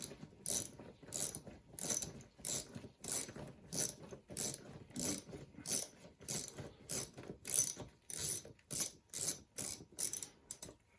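Ratchet wrench loosening a 10mm throttle body clamp on a 2000 Toyota Sienna, a steady run of quick clicking bursts repeating about twice a second, close and clear with no voice.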